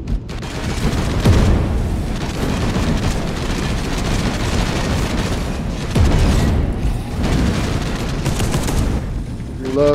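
Gunfire and explosions in a video game: continuous loud battle noise with dense automatic fire, deep booms and rumbling blasts layered together, and a brief tonal effect at the very end.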